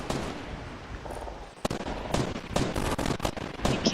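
Gunfire in the Fortnite video game: dense, continuous bursts of shots crackling throughout, with sharp louder reports near the middle and end, no voices.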